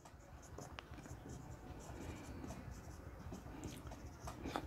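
Marker or chalk scratching across a board during a finance lecture on cost of capital, steady faint strokes over a low room hum with a few sharper taps.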